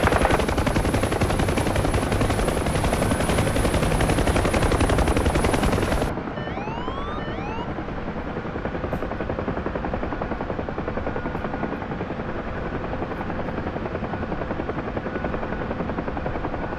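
A UH-1 Huey helicopter lands on a helipad at the Burj Al Arab Hotel. Its rotor chop is a loud, dense, steady beat that drops in level partway through and keeps thumping at a lower intensity until the end. There is no talk.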